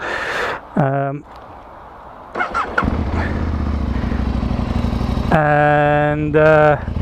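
A 2005 Aprilia RSV1000R base-model sport motorcycle engine runs close by, settling into a steady idle between two sharp, rising revs.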